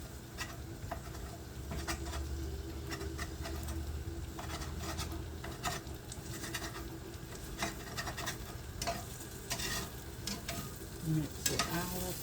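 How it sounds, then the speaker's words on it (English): Philly steak meat chopped with a spatula and frying on a hot griddle, a steady sizzle broken by repeated scraping and chopping clicks at close range, no talking. "And then you just want to give it some chop in there."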